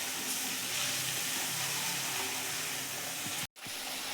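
Onions frying in a pan for pav bhaji, a continuous close sizzle and hiss holding steady, broken by a brief dropout near the end.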